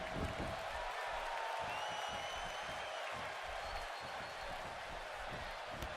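A crowd cheering in the WWE 2K18 wrestling video game, a dense, unbroken roar of cheers and applause that holds at a steady level throughout.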